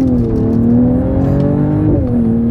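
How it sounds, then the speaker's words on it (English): A 2024 Mercedes-AMG GLE 53 Coupe in sport mode pulls away from a stop, its exhaust droning loud and close with a steady rising tone and a brief shift dip. "I got the exhaust turned on here, the real exhaust note,"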